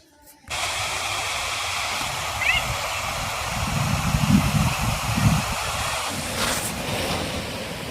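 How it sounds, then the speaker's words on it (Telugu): Pykara waterfalls in Ooty, Tamil Nadu, roaring as a steady broadband rush of falling water, close and continuous, swelling slightly midway, with faint voices in the background. "పయాకారా వాటర్ ఫాల్స్ ఊటీ ఊటీలో ఉంది తమిళనాడు"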